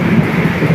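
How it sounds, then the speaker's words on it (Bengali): Heavy rain pours outside during a downpour in Saudi Arabia, a steady dense rushing roar with a low rumbling undertone and no voices. "বৃষ্টির আওয়াজ, অনেক বৃষ্টি হইতেছে বাইরে"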